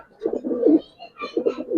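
Silver Giribaz pigeons coo in two close, soft, throaty bursts separated by a short pause, without talk.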